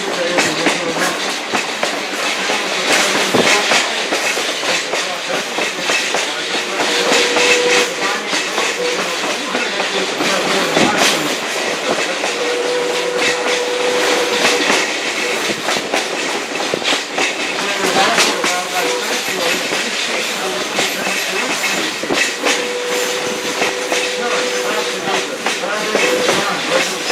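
Essex steam train carriage rolling on rails, a steady broadband rumble with faint hiss and soft rhythmic clickety-clack throughout, close and continuous.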